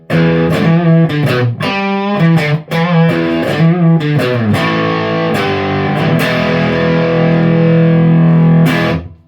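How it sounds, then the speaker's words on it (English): An electric guitar runs through an Artec QDD onboard distortion driver set to distortion, playing loud sustained chords and bending notes with a thick, saturated tone that rings out alone before cutting off at the end. "Hitting it up to the distortion."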